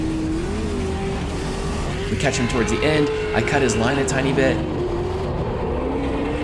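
Loud onboard drone of a V8 Nissan S14 drift car at Lone Star Bash, engine pitch rising and falling steadily as a second V8 car runs close, with someone talking over it.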